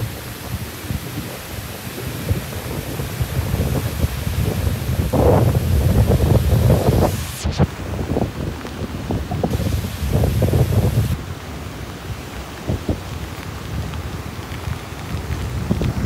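Strong wind and heavy rain from Typhoon Aghon lash Boracay beach, a loud, steady roar with gusty swells and buffeting against the microphone throughout, and no voices.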